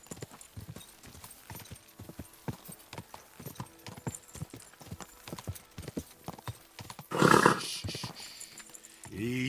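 Steady clip-clop of horse hooves trotting at an even rhythm in the video game Kingdom Come: Deliverance 2, fairly close, followed by a brief loud whinny-like burst near the end.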